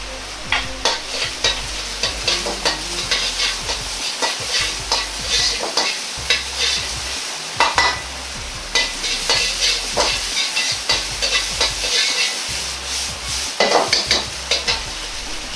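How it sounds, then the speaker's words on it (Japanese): Onions stir-fried in a wok with meat and ginger for black fried rice: a constant crackling sizzle broken by repeated rhythmic scraping and tossing strokes of a spatula, close and fairly loud, with no talking. "玉ねぎも入れ炒めます。"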